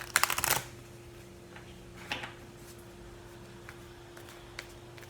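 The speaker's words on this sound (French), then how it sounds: "Je vais aller prendre une carte oracle d'ici." A quick, crisp riffle of oracle cards being shuffled up close, followed by a softer card flick and a faint tap, in an otherwise quiet room.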